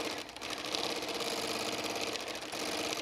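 A sewing machine quilting a quilt runs in a steady, continuous fast whirring hum for about three seconds, close and even, with no voices.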